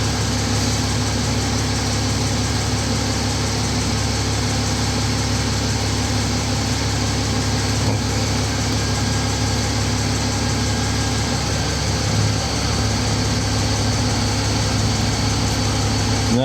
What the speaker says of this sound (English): Now I can hear the compressor.